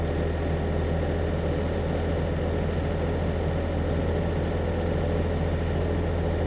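A concrete-breaking machine's engine runs steadily at high revs around 1650 RPM, a loud, continuous low-pitched drone with a heavy rumble holding evenly throughout.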